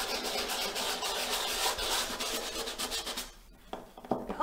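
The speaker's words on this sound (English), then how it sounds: "And you can just keep sanding this down." Abrasive sanding of a craft piece, a dense continuous rasping scrape that stays fairly loud for about three seconds, then breaks into a few shorter, quieter strokes.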